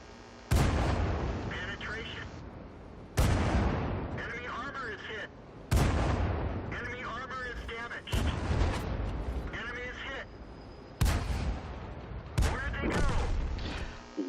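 Ram II tank cannon shots in World of Tanks, with six heavy booming blasts spaced a few seconds apart, each trailing off into a rumbling decay. Mechanical game sounds sit between the shots.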